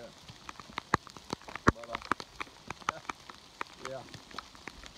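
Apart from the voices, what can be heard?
rain falling on a spring hike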